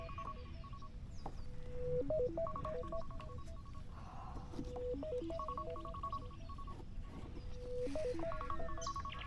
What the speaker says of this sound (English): Oh, that was my alarm letting me know